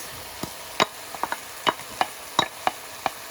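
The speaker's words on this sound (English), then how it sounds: "And then saute the onions and the bacon together." Onions and bacon sautéing together in a pan, heard as a series of sharp, scattered spatters and clinks from stirring against a faint background sizzle, close and moderately loud with no talking.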